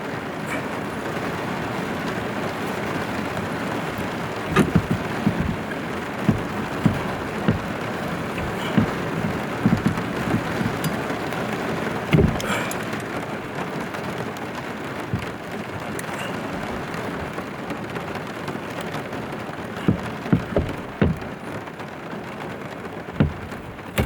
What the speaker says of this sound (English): I don't know if you can hear that rain,